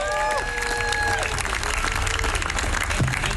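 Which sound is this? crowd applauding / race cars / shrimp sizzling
crowd applauding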